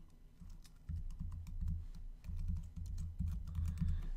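Typing on a computer keyboard as a username is entered into a shipment-tracking website login, a steady run of close, quick key clicks with short pauses between bursts.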